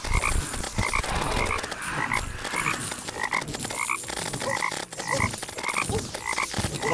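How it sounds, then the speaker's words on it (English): Plague toads in the modded game Terraria croak loudly and continuously, with repeated rhythmic croaks from several toads overlapping against steady background game noise. "The fact that this thing is called plague toads and I'm throwing a bunch of toads on the ground."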